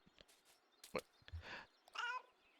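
A cat gives a short meow, then a longer drawn-out one, amid faint rustles and clicks nearby.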